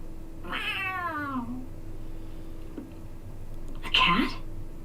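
A cat in the video game Tales of Arise gives a drawn-out meow, then after a pause a shorter second meow, both close and clear over a low background hum.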